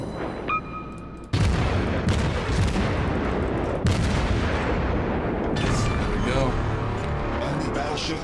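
Incoming naval shell fire in World of Warships rumbles as a sharp boom followed by a sustained roar of explosions and gunfire, loud and continuous, with a voice speaking briefly near the start.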